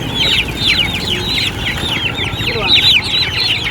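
Dense chorus of chickens clucking and squawking continuously, close by, with overlapping calls throughout and a steady low rumble of background noise.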